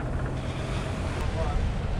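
Ocean waves rolling in near rocks and a dinghy dock at an exposed anchorage, a close, low rumbling wash mixed with wind buffeting the microphone, steady and moderately loud.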